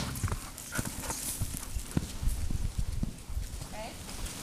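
A horse trots in a sweat in an arena during saddle training for a reactive horse, its hooves clip-clopping in a steady close rhythm while a trainer talks over it.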